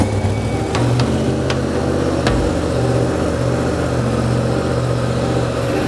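A Yamaha R1 sport motorcycle idles steadily nearby, a loud, even engine drone with a few sharp clicks and no voices.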